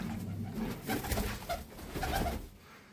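Iranian pigeons cooing inside a loft, soft low throaty coos overlapping one another at close range with no voices.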